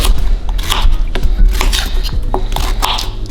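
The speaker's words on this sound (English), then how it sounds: "I'm just gonna give it a quick chop, no shape in particular." A knife chops ginger repeatedly on a cutting board, sharp irregular knocks in quick succession, close up with no talking.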